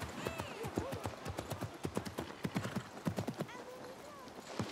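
Rapid hoofbeats of a horse in Assassin's Creed Mirage clatter in a quick galloping rhythm, with the horse whinnying briefly and voices talking over it.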